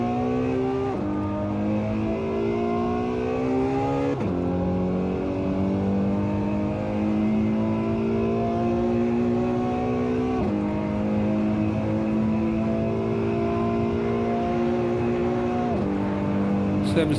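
Ferrari engine in the racing game Assetto Corsa, revving up through gears with repeated rising whines and sharp drops at each shift, loud and continuous.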